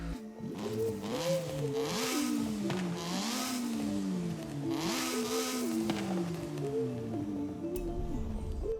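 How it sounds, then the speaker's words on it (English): A Mazda RX-7 Spirit R Type A rotary engine in Forza Horizon 5 revs repeatedly, its pitch climbing and falling in smooth sweeps, loud and close with no talking. "even like the idle sound actually sounds like an RX7 now"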